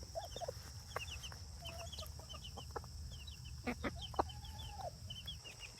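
A Silkie broody hen clucks softly while her chicks cheep in quick, high bursts around her, the small calls scattered and repeated at close range over a quiet background.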